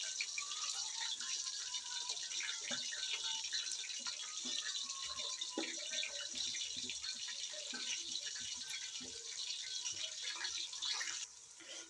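Chopped onions going into hot oil in a pan for chana pulao, a steady bright sizzle and crackle with small pops throughout, close and fairly loud, easing slightly at the very end.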